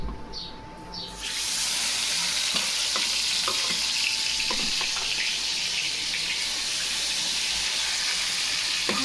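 Hilsa fish rubbed with turmeric and salt drops into hot oil after a quiet moment, then fries with a loud, continuous sizzle and crackle that holds steady to the end.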